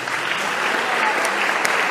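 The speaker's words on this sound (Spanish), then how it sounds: "un aplauso para la hermana" An audience at a Catholic talk by a priest applauds steadily, a dense wash of clapping that holds evenly throughout.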